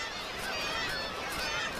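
A dense, continuous chorus of kittiwake gulls calling from a crowded breeding colony on far-northern coastal cliffs in March, many overlapping cries forming one loud, steady wash of noise.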